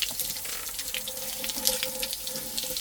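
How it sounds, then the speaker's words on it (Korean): Water poured generously over a bonsai pot to rinse off lime sulfur, a steady close splashing and trickling stream that runs unbroken throughout. "이렇게 물을 듬뿍 뿌려주면 됩니다"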